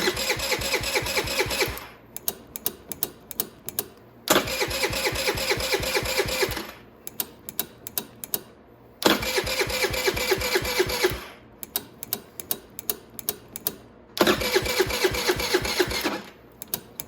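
50cc automatic motorcycle engine with a newly changed carburetor, repeatedly cranked by its starter in several whirring bursts of about two seconds each, with rapid ticking between attempts, close and loud.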